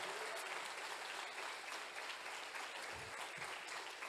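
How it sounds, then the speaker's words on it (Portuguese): A church congregation applauds during a sermon, a steady faint wash of clapping from many hands throughout, heard at a distance without voices on top. "Aplaude de gratidão."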